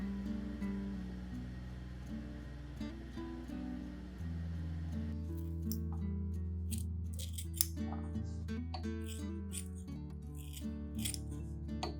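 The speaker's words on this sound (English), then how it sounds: "I cut the banana peels into small pieces. You can use scissors or a knife," Scissors snip banana peels into small pieces, a steady series of crisp cuts over continuous background music.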